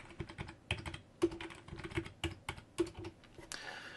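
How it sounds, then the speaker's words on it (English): Someone types on a computer keyboard nearby in uneven bursts of crisp key clicks, with a couple of heavier presses standing out from the rest. "Just use the keyboard."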